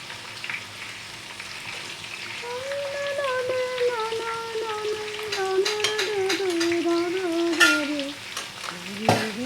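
Lentil fritters for dahi bora frying in hot oil, a steady close bubbling sizzle with crackling spits throughout, a rising whistle-like tone running through the middle and a clatter near the end; no talk.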